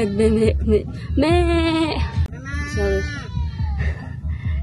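A goat bleats several times, loud and close, with wavering cries; a person speaks in between.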